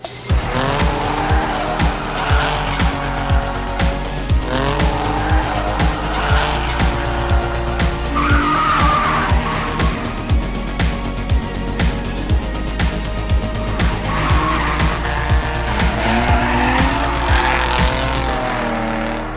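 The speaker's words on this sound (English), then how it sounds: "I bought a Nissan 350Z to learn to drift" Nissan 350Z drifting, a loud revving engine under long repeated tire squeals and skids, close and continuous with rhythmic throttle pulses, no talking.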